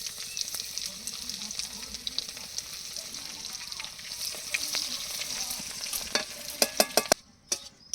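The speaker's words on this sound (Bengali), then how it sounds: "তেলের মধ্যে দিয়ে দেবো গোটা জিরা ফোড়ন তিন চারটে তেজপাতা দিয়ে দেবো রসুন কুচি" Whole cumin seeds, three or four bay leaves and chopped garlic fry in hot oil, a steady close sizzle with crackling pops that sharpen toward the end, with faint background voices.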